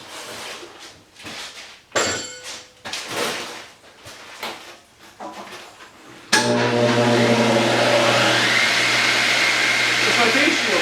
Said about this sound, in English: I'm just going to touch these edges up a bit with the belt sander.